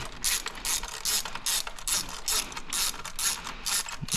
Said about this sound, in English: That flex socket really works, especially because it's like tilted that way.